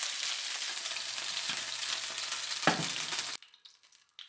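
Chicken wings frying in hot oil, a loud, dense, steady sizzle up close that stops abruptly near the end, leaving faint clinks.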